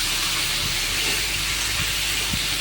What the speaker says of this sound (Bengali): এবার পটলগুলো দিয়ে দেবো দেখো পটলগুলো আমি দিয়ে দিচ্ছি এবার একটু লাল লাল করে একটু ভেজে নেবো